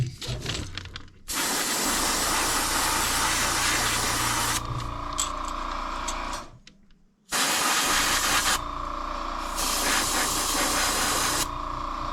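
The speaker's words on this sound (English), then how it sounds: "we're just going to spray this on just so that we can lock in our paint" Long hissing bursts of an aerosol or airbrush spray of clear coat onto a painted crankbait lure, two extended passes separated by a short pause, with a low motor hum underneath.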